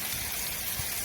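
Hail falls in Haute-Vienne, a dense, even hiss of countless small impacts that holds steady throughout.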